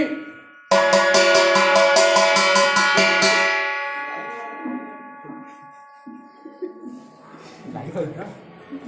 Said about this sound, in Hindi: सब आवाज लगाओ, घंटी बजाओ